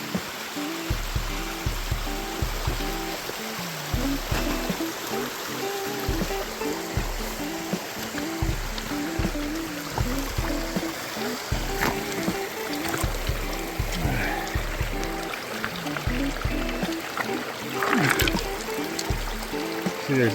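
Creek water flowing steadily along a rocky gulch, a continuous close rushing and trickling that runs throughout with no voices.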